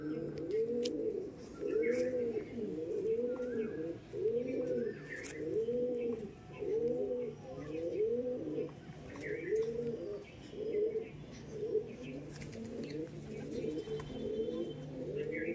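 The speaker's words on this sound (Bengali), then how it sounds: "এটা ছিল নর পায়রা, আর ওটা দেখালাম আমরা মাদি পায়রা" Andhra pigeons coo in a steady run of low, throaty, repeated phrases that continue with hardly a pause, close by, with faint chirps in the background.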